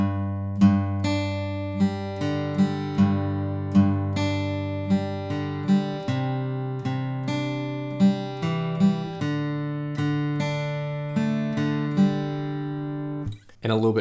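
An acoustic guitar strums the verse of a song in a steady pattern of ringing chords. It is close and alone, with a brief noisy break at the end.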